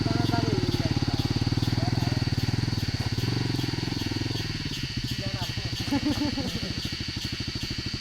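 A motorcycle engine idles and revs unevenly as the bike is maneuvered to a stop on slippery mud on a trail near Kathmandu, Nepal, a close, pulsing engine throb throughout with people talking over it.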